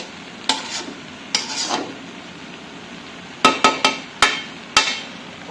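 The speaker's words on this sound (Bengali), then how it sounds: "মাছের আঁশগুলো এ পর্যায়ে হালকা একটু ঝেঁকে ঝেঁকে আমি ভাজিটা তৈরি করে নিব রান্না করে নিব" Mouka fish with new potatoes frying in a pan on a clay stove, a low steady sizzle broken by sharp clanks and rattles as the pan is shaken, two early knocks then a quick cluster of five.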